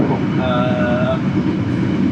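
Matarmaja passenger train carriage riding through the night, a steady low rumble of wheels and carriage with a brief tonal whine partway through, heard from inside at moderate level.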